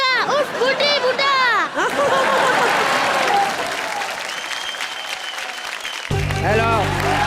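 A studio audience at a TV comedy show claps loudly and continuously, with scattered whoops and cheers, and the applause tails off as music comes in at the end.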